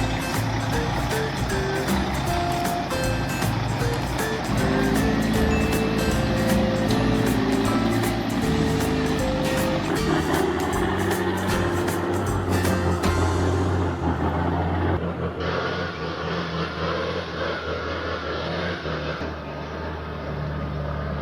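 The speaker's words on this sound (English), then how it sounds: "This truck is hauling tons of wood across rough terrain" Heavy truck hauling a load of wood across rough terrain, a continuous loud engine drone with shifting tones that drops partway through, under background music.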